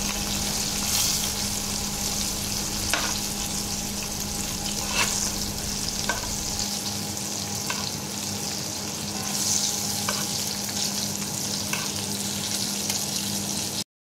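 Squid calamares frying in hot oil, a loud, steady sizzle with bright crackle that holds unbroken throughout, with occasional light clicks of stirring or turning the pieces, close by and without speech.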